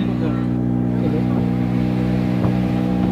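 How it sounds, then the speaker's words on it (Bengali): A motorboat at Massanjore Dam starts up for a ride, its loud, close engine holding a steady low drone with wind noise, while people talk over it. "বোটটা স্টার্টিং হবে।"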